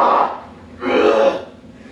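A man with tuberculosis coughs and clears his throat in two rough, harsh bursts, close and loud, with a brief pause between them and no speech.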